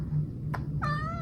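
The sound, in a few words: cat meowing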